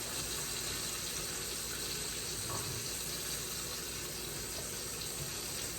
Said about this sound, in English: we fill this up with water and we cover it